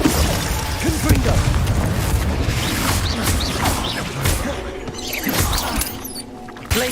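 Confringo fire blast spells explode in Hogwarts Legacy as a run of crackling, crashing bursts over busy, cluttered game noise. A quieter gap comes near the end before a last hit.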